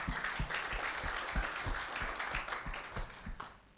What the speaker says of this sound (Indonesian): Tepuk tangan dulu untuk Bapak Ibu, yes.